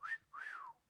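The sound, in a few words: wolf whistle imitated by speaker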